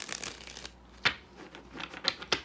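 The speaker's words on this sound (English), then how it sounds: "Matter of fact, let me shuffle." Tarot cards are shuffled nearby in soft riffling bursts, a long run at first and then several short flicks, faint and without talk.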